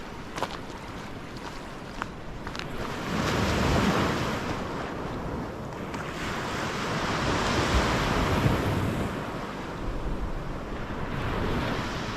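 Waves and wind on an empty Norfolk coast beach, a steady broadband roar of surf swelling and easing in slow surges, with wind buffeting the microphone throughout.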